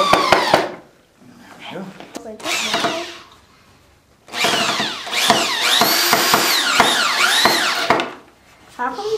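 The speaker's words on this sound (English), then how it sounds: "It's just drilling." A power drill boring into wood while a bed is built, with a whining motor that rises and falls in pitch across two long runs and a short burst, loud and close, with voices nearby between the runs.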